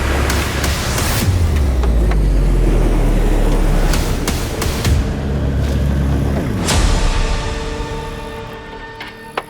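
A car drives along a road while following someone, its engine rumbling loudly with a low drone, passing whooshes and a few sharp clunks, with no voices.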